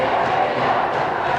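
A partisan Bishop Stang student section crowd roars and cheers steadily at a high school hockey playoff game against Nantucket, a dense, continuous wash of voices throughout.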